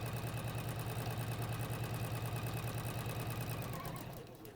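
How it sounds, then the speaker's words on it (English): Sewing machine stitching a straight-stitch seam with a scant quarter-inch allowance in a bag-making class, a steady fast mechanical hum and rhythmic needle chatter that runs evenly, then slows and stops near the end. "So I've changed my machine back to straight stitch"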